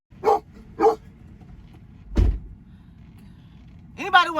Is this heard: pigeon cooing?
no